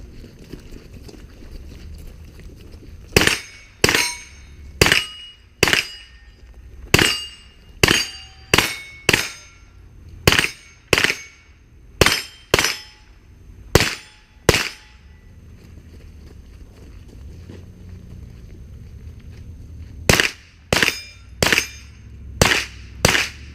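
Gunfire on a shooting league stage: about sixteen sharp, loud shots at a slow, deliberate pace, a pause of several seconds, then five more evenly spaced shots.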